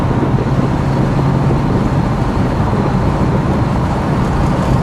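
A 1967 Pontiac Firebird convertible with a 326 HO engine and four-speed cruising on the road, a loud, steady low engine drone blended with road and wind noise.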